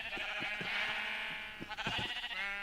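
A Minecraft sheep bleats in several short, wavering calls close by, fairly quiet, with no talk.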